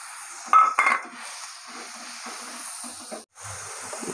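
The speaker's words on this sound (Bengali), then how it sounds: "মশলাটা ভালো করে কষিয়ে নেব।" Masala paste of ginger and cumin fries in a pan, giving a soft, steady sizzle with clinks of a utensil against the pan near the start and light stirring scrapes.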